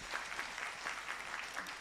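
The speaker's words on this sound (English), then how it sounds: "Let's give them a round of applause." Steady applause fills a hall as the audience of a national agroecology symposium claps for the presenters. The sound is an even, moderately distant patter with no voices on top.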